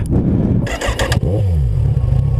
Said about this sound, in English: notice as you're revving it, as you're going up in higher RPMs, the tach will go on